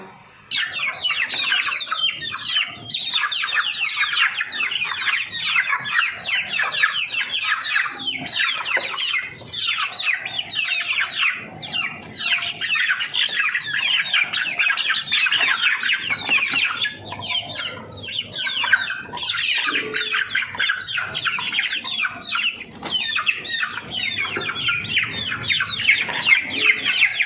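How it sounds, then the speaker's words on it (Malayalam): A crowded coop of chickens erupts in loud, nonstop clucking and squawking while being fed fish waste, the excited din holding steady for the whole stretch with no talking. "മീൻ്റെ വേസ്റ്റൊക്കെ ഇട്ട് കൊടുക്കുമ്പോൾ ഭയങ്കര ബഹളമാണ് കേട്ടോ കൂട്ടിൽ"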